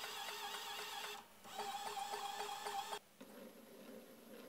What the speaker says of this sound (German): Die Drehbewegung des Getriebemotors wird über die Gewindestange in eine lineare Bewegung verwandelt.